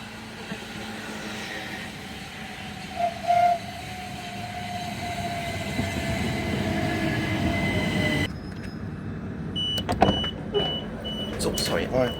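A train on the Hastings Line rolls into a station with a rumbling drone and squealing wheels, then a hiss and clunks as it stops; voices murmur in the background.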